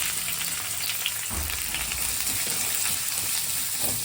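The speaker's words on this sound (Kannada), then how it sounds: "ಆನಿಯನ್ ಹಾಕಿ ಒಂದು ಎರಡು ನಿಮಿಷ ಫ್ರೈ ಮಾಡಬೇಕು" Onions frying in a pan for a drumstick-leaf and egg stir-fry, a steady close sizzle with soft stirring scrapes running throughout, no talk.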